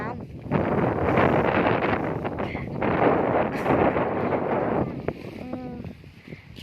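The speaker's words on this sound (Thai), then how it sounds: "แต่ลมแรงมากค่ะ" Strong gusts buffet an outdoor microphone in a continuous loud rumble, with a brief harmonic tone near the end.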